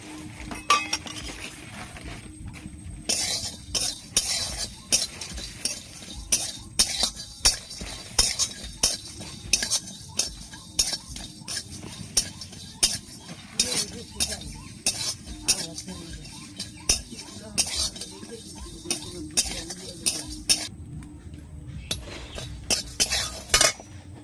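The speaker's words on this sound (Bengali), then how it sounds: "উনানটা ধরে নিয়েছি আর এই যে মশলাটা ভেজে নেব" Spices fry in a pan while a metal utensil stirs them, giving steady repeated clinks and scrapes over a low sizzle that lasts throughout, with no voices.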